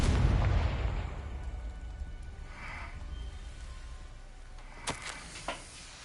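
A Confringo blasting spell going off in Hogwarts Legacy: a deep, rumbling boom right at the start that rolls away into a long fading tail, followed later by a couple of sharp, brief cracks.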